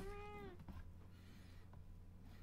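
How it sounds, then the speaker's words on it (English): A house cat gives a single clear meow near the start, drawn out and falling in pitch, then fades to a quiet room hum with no talking. "the kitty's now meowing"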